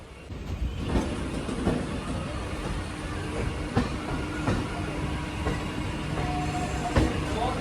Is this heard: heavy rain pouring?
no